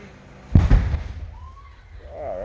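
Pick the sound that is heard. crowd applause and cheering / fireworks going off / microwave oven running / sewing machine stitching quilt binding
fireworks going off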